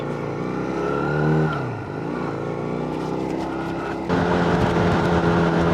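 A motorcycle laden with a big bag on the back pulls away on a road in northern Thailand, its engine note steady and close, then rising in a louder, rougher surge near the end, with no talk over it.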